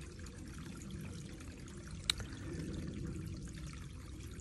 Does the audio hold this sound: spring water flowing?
yes